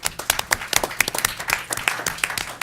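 An audience claps at a board of education meeting: a brief round of scattered, crisp handclaps, fairly close and uneven in rhythm, with individual claps standing out, lasting under three seconds.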